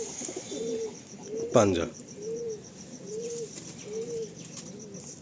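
Loft pigeons cooing up close in a steady rhythm of soft repeated coos, with a brief spoken word partway through.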